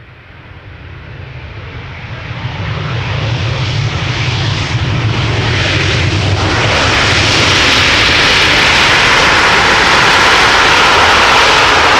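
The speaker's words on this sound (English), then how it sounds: "This is Delta Airlines flight 56 arriving from Salt Lake City." A Delta Airlines jet arriving at Amsterdam Schiphol Airport after a flight from Salt Lake City, its engine roar swelling from moderate to very loud as it passes close overhead.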